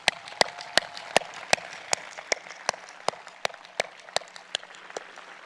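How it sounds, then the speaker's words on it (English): Sparse, scattered claps ring out about a dozen times at a steady pace in a middle school auditorium for an eighth grade graduating class of 2021, each sharp and distinct over a quiet room rather than a full ovation. "Can we all give a round of applause?"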